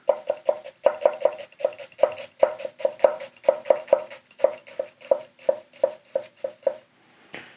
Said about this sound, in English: onion dice with the big boy 215 mil